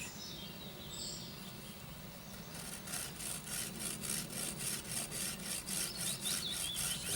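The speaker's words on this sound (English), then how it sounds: "I'm putting almost no effort into the sawing" A hand saw rasps through wood, cutting a notch in quick, regular strokes, close and steady, after a few seconds of quieter scraping; faint birdsong sounds in the background.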